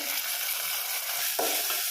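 Steady hissing sizzle of finely chopped tomatoes frying in a pan, with a brief scrape of stirring partway through; no voices.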